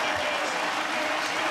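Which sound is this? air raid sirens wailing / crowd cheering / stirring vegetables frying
crowd cheering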